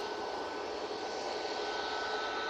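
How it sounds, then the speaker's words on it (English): A Ryanair Boeing 737 MAX 8 jet at Manchester Airport gives off a steady, loud, broadband engine roar that holds constant throughout, with no voices over it. "we've got this 737 MAX 8 for Ryanair going to Venice"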